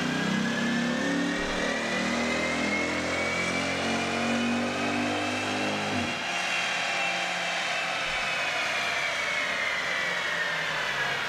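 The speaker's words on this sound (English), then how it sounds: "I say the Hemi is probably my favorite sounding engine out of the like three American brands." A 6.1-litre Hemi V8 in a 2006–2010 Jeep Grand Cherokee SRT8 on a dyno, revving in a long rising pull that climbs steadily, then drops off sharply and settles, loud and alone.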